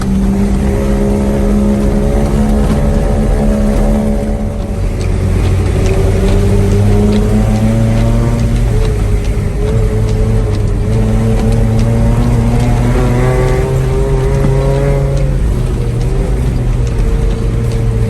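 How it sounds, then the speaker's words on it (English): A 1985 Toyota Hilux truck's 22RE four-cylinder engine drones loudly from inside the cab while driving, its pitch rising and falling smoothly through gear changes with steady road noise and no talking. "there's something about that 22RE sound that just gets my blood flowing better than anything"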